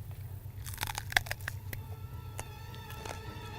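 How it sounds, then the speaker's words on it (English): Crunchy spicy food chewed close to the mic, with a quiet, irregular run of crisp crunches over a low steady hum. "It's so good when you're chewing because it is so crunchy"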